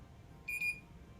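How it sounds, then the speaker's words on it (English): A beep sounds aboard the Star Wars Galactic Starcruiser. It is a single short, clear electronic tone of about a quarter second, moderately loud over a faint low background hum. "It also makes a lot of beeping noises."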